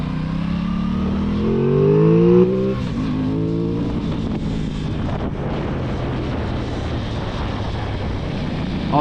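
An Aprilia Tuono 660 middleweight naked motorcycle accelerates hard on a road ride, its engine rising in pitch through the gears, with steady wind rush over the microphone and no talk.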